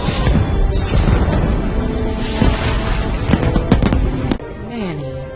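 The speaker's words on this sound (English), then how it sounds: "His embarrassment is short-lived as a meteor shower suddenly begins." Meteor shower impacts from the animated film Ice Age: Collision Course, a dense barrage of booming, crackling blasts like fireworks, loud and continuous, easing off near the end with a falling whistle, with speech mixed in.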